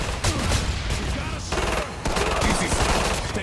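Continuous heavy gunfire in the video game Killing Floor 2, loud rapid shots with thudding impacts filling the short stretch, briefly dipping before resuming.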